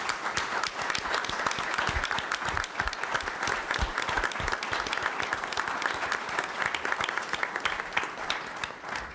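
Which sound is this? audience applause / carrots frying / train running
audience applause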